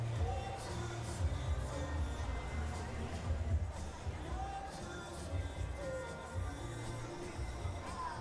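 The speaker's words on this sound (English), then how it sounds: "This is a nervous crowd waiting for the numbers." Nervous arena crowd at a gymnastics World Challenge Cup event final, waiting for the scores: a steady, faint murmur of many voices with no cheers or sharp peaks throughout.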